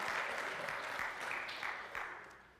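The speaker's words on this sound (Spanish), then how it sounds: "No, ya no aplaudan, ya es muy tarde," A church congregation applauds in a steady, fairly distant wash of clapping that fades slightly toward the end, with no speech over it.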